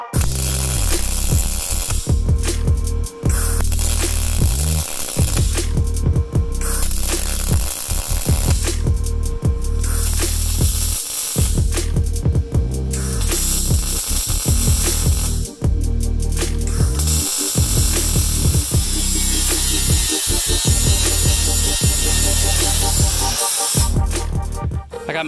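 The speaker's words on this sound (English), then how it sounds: "you can go ahead and weld this sucker up" Welding a boat trailer's steel frame rail to thinner sheet metal, with loud, steady buzzing crackle in several long passes, each broken by short pauses, close to the microphone and with no talk.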